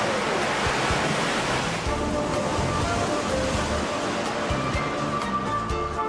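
Steady, roaring surge of an artificial wave pool driven by large turbine pumps, a dense continuous wash of churning water heard up close with no talking.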